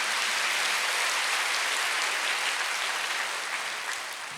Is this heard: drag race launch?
no